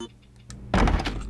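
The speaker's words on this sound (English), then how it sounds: "Oh my god, they're bashing the door" Zombies bash against a door in the Resident Evil Outbreak game: a faint thump, then a loud burst of heavy, clattering blows about midway that keeps on to the end.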